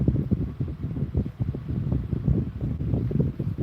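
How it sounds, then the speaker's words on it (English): A fan blowing air onto a microphone indoors gives a steady low rumbling buffet of wind noise with uneven gusting pulses and no speech over it. "I have a fan blowing wind on me right now"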